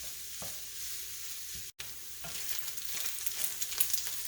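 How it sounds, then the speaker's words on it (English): Onion and hamburger meat sautéing in rendered fat, a soft continuous sizzle with a few stirring knocks and a brief break, growing slightly busier toward the end. "the onion are going to saute in the fat that's been released from your hamburger meat"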